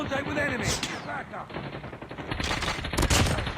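Rapid bursts of automatic gunfire in a Call of Duty video game crackle almost continuously, dense and loud, with a few heavier shots standing out near the end.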